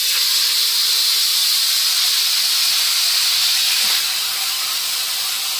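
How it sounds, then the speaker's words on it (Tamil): Whole murrel fish frying in hot oil outdoors in a village garden, a steady loud hiss and sizzle filling the whole stretch with no talk, easing slightly near the end. "ஒரு தோட்டத்தில் மொத்த மீனையும் போட்டு ஒரே டைம்ல வறுக்கிறாங்க"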